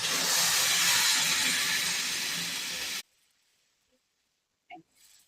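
Water poured into a hot pan of sautéed vegetables with chili powder for a vegetable kurma gives a loud, steady sizzling hiss for about three seconds, then stops abruptly, followed by a few faint clinks.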